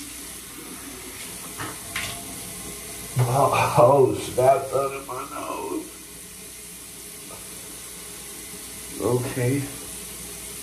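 Morning face wash at a bathroom sink: running tap water splashes in a couple of close bursts, first several seconds long and then a brief second one, with someone talking casually nearby.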